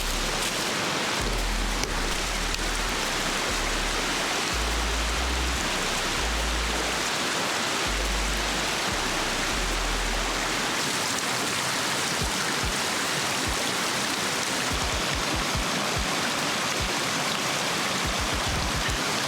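A Carpathian mountain river rushes in a steady, loud wash of flowing water that fills the whole stretch, with low thumps and bumps underneath and no talk.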